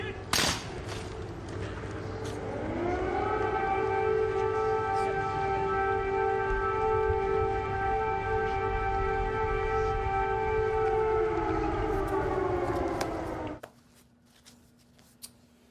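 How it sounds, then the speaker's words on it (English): An air raid siren in Kyiv wails, rises and holds a steady, droning tone for several seconds, distant and echoing, then cuts off leaving faint background noise. "Note the air raid sirens in the background."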